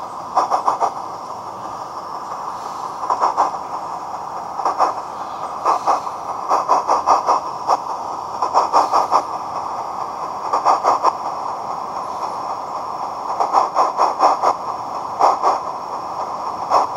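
A miniature steam locomotive with a valve timing fault climbs a slope, its exhaust coming as uneven clusters of chuffs over a continuous hiss that stay steady in loudness throughout.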